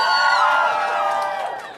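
Excited fans in a crowd cheering and shouting together, a dense, loud wash of many high voices that holds steady and then fades slightly toward the end.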